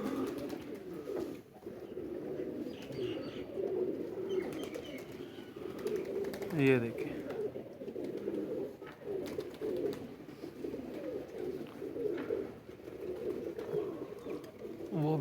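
Pigeons cooing on a rooftop, soft repeated throaty coos from several birds close by, with occasional wing flutters and someone speaking briefly over them.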